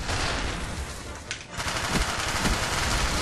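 Rapid video-game machine-gun fire rattles on continuously at close range, loud and dense, with a brief dip in the middle before the bursts resume.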